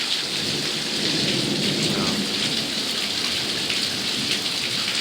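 Heavy monsoon rain pours steadily outdoors, a dense continuous hiss of drops hitting surfaces, with low rumbling thunder rolling underneath the whole time.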